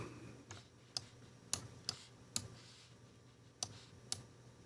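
Sharp mouse or keyboard clicks, about seven of them spaced irregularly and fairly faint, while someone plays the air-traffic game Mini Airways, with no talking.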